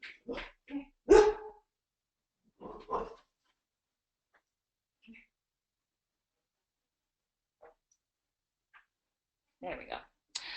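A dog barks in short, sharp bursts from nearby in a quiet room, a cluster at the start, another pair a bit later, faint yips in between and more barks at the end.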